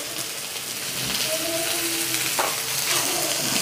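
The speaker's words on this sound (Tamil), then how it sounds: "அதோட தேங்காய் பாலையும் விடுவோம்." Coconut milk is poured into a simmering tamarind sambar in a Jaffna home kitchen, giving a steady close bubbling sizzle with a brief pouring splash partway through.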